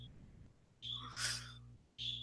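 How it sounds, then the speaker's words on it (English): A bird call sounds in two bursts, shrill and whistle-like, over a low steady hum. A brief rushing noise falls between the bursts. "I hear a bird."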